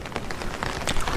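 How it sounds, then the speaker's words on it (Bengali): Steady cartoon rain falls as a dense hiss with scattered drop taps, rising slightly toward the end, in a dark stormy night scene. "বৃষ্টির গতি যেন বেড়ে যে কোনো সময় ঝড় উঠবে।"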